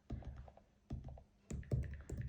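Clicks and clatters from a computer keyboard as text is typed, several quick bursts of keystrokes separated by short pauses, close and fairly quiet with no voice.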